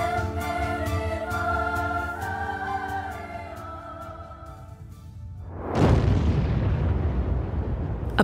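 A large explosive blast bursting from the reinforced sky lobby floors of a high-rise tower during demolition, arriving as a sudden loud roaring rumble that swells and sustains after several seconds of quieter tonal background.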